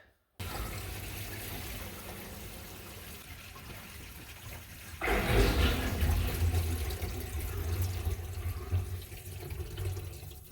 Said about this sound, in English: now I'll fill the sink and we're gonna give this a test